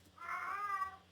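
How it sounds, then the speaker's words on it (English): A house cat meows once, a drawn-out, fairly close call lasting about a second in a quiet indoor room. "Porkerine, my daughter's cat, is looking for somebody to play with her"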